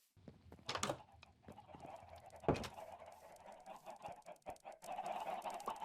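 Chickens in the video game Minecraft cluck in short, scattered bursts, fairly quiet and close, with a few sharper clucks standing out among a soft, busy background.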